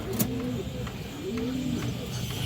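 Army breed pigeons cooing in a loft, a few soft throaty coos repeating at a low pitch, faint against a steady background hum with a sharp click near the start.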